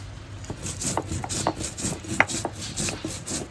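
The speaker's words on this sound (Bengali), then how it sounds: "এখন এই জিরেটা বেটে নিচ্ছি" Cumin seeds are ground into a paste on a grinding stone, making a rhythmic series of scraping, rubbing strokes roughly every half second, close and moderately loud with no talking.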